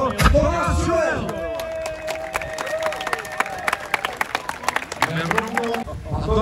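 Applause at a car race prize ceremony in Čáslav, scattered crisp claps from a crowd under a loud announcer's voice, growing then easing over several seconds.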